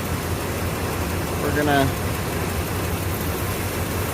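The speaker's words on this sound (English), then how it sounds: "So she's actually idling out pretty smooth." A Ford Bronco engine idles smoothly in a steady low rumble throughout, with someone speaking briefly over it partway through.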